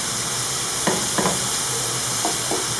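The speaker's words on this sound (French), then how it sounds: "Je vais bien mélanger pour que le tout soit bien" Chicken filling sizzles and fries steadily in a pan while a spoon stirs it, scraping in a few short, distinct strokes over the constant hiss.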